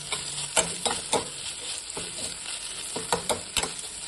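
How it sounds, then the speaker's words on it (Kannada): Tomatoes frying in a hot pan with chili powder, a bright steady sizzle broken by repeated spatula stirs and scrapes, close and fairly loud with no talk. "ಟೊಮೊಟೊ ಹಾಕ್ಕೊಂಡು ಚೂರು ಹುರ್ಕೊಳ್ಳೋಣ."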